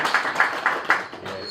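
An audience at the official launch of an examination centre claps for Jared in a short burst of quick, evenly spaced claps, close and moderate, with a voice over it.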